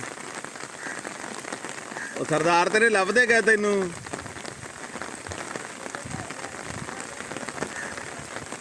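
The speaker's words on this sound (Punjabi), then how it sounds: "ਮੀਂਹ ਤੇ ਲੱਗਾ ਆ" Rain patters steadily throughout while someone speaks briefly in the middle, his voice standing out over the constant wet hiss.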